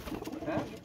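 A short burst of low pigeon cooing, close and fairly clear, with faint background noise.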